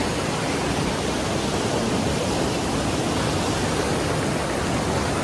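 Water rushing over the Edekumari falls in a forest, a loud, constant broadband roar that fills the whole moment without change.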